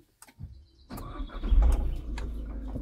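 A Toyota Proace campervan engine cranks briefly after a quiet click, then catches and settles into a steady low idle that carries to the end.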